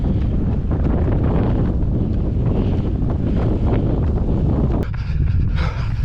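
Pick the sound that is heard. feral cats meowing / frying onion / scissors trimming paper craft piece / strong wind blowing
strong wind blowing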